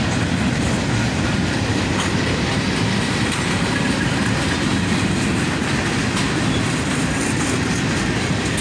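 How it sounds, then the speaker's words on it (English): A long CSX freight train rolls steadily across a bridge, its dense rumble and clickety-clack of wheels continuous and loud throughout, with no voices over it. "This train was a bit bigger than the one that preceded it. It took about 7 minutes to go by."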